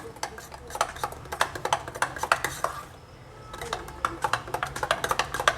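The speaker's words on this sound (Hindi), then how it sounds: "आधा गिलास पानी में आपको 2 टीस्पून रागी आटा को इसमें डालना है और इसे हमें घोल लेना है" A spoon clinks rapidly against a glass while two teaspoons of ragi flour are stirred into half a glass of water, a quick, bright metallic rattle that pauses briefly midway and resumes, with no talk.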